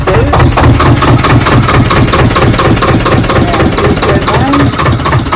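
A car engine idles loudly while warming up after sitting unused for a while, producing a constant, rapid mechanical knocking throb that stays steady and close for the whole stretch.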